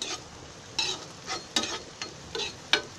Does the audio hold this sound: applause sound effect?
no